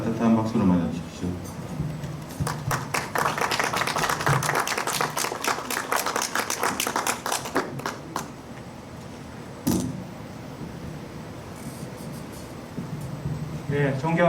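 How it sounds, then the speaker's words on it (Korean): An audience claps warmly to welcome the association president at a medical ultrasound workshop, dense applause rising in the first seconds and continuing steadily for most of the stretch before fading, with murmuring voices underneath. "따뜻한 박수로 맞아주십시오."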